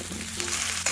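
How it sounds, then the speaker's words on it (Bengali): Potato pieces sizzle steadily in a hot pan as they are stirred for a stew, a brief, continuous hiss with no talking. "প্রথমেই দিয়ে দিচ্ছি আলুটাকে নাড়িয়ে চাড়িয়ে একটু ভেজে নেব"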